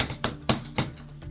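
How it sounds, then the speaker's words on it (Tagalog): Knocking on a door, three or four hollow raps at a steady pace, fairly quiet against a low room hum. "Sino yung kumakatok?"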